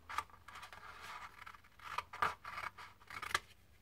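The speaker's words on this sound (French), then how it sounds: "On prend notre petite paire de ciseaux" Small scissors snip around a paper picture, giving a series of short, close crisp cuts at an uneven pace over quiet background.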